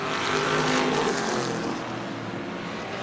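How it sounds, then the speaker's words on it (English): Outlaw race cars roaring around the track during a race, a loud, sustained engine drone that rises and then eases slightly as the cars pass, with no voices. "These Outlaw cars really loud."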